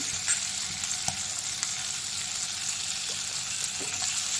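Onion, ginger and garlic frying in butter on a gas stove for paneer butter masala, a steady close sizzle with faint crackles and occasional stirring ticks throughout.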